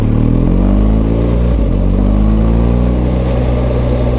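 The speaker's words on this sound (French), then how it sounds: "Oui, il est plaisant ce moteur. Hein. Là, je suis à 1800 tours et ça passe crème." A BMW R1250GS motorcycle engine putters steadily at about 1800 rpm, loud and close, with a deep continuous throb and a brief dip in pitch partway through.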